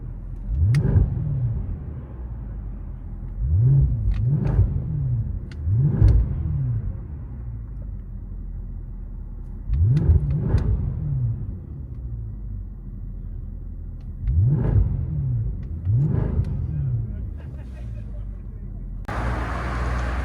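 A 2008 Mercedes S63 AMG 6.3L V8 with resonator delete revs repeatedly with a deep, throaty exhaust roar, several sharp blips rising and falling in quick pairs, close by.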